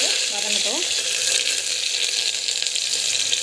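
Onions and curry leaves sauté in hot oil with a steady, dense sizzle that holds evenly throughout, close and fairly loud.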